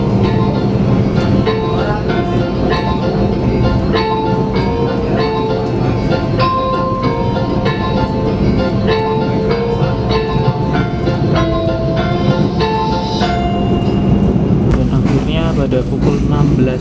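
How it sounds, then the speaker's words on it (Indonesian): The Argo Lawu passenger train from Yogyakarta to Jakarta rolls along the rails toward Gambir station with a steady loud rumble and squealing wheel tones as heard from inside the carriage, with a voice speaking over the noise throughout. "stay in your seat until the train completely stops"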